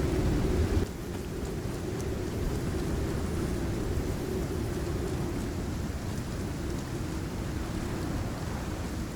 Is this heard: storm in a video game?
yes